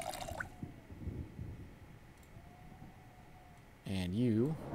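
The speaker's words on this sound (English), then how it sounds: "And also fill our water bottle." Water pours into a bottle in Project Zomboid, a short gurgling fill sound with rising pitch near the end, loud and close after a quieter stretch of faint drips and ambience.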